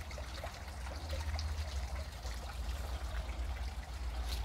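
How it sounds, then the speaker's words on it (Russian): A small park fountain and waterfall trickle steadily at Rosenburg park in Saxony-Anhalt, Germany, a soft continuous wash of running water with no voices. "Здесь я вижу ступеньки, фонтанчик, водопадик."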